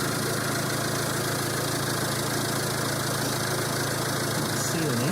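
A Peugeot Partner van's engine idles steadily after an oil change, a continuous close, even rumble with no change in pace, running on its own without talk.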